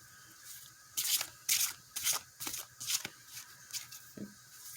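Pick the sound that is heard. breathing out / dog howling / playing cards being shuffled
playing cards being shuffled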